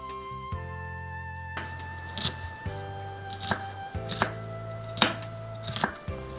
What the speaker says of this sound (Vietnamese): Hành tây thì mình sẽ cắt đôi và mình sẽ cắt hạt lựu ha.